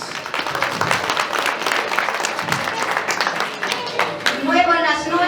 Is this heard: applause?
yes